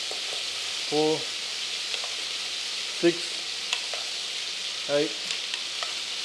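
A pot of Thai yellow chicken curry sizzles steadily and close by, a constant frying hiss, while a voice counts aloud in short bursts over it.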